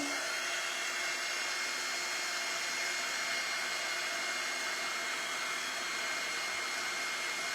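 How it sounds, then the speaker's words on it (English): Heat gun blowing steadily while drying glue and acrylic paint for a crackle finish, a constant loud fan-and-air roar with a faint whine that holds unchanged throughout, with no speech. "then you're gonna pick up your heat gun."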